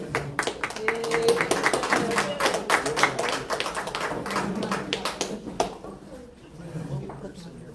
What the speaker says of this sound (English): let's all give Chef Leroy a big round of applause.